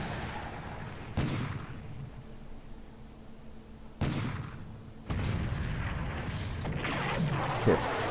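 Torpedo hits on a tanker in the naval war game War in the Pacific, heard as three sharp booming blasts that each give way to a rumbling, noisy tail, with no talking.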